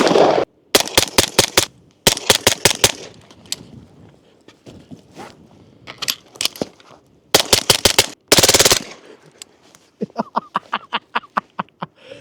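A Stribog SP45A3 .45 pistol-caliber carbine fired unsuppressed in sharp, loud rapid bursts of several shots each, with short pauses between strings and a final faster run of shots.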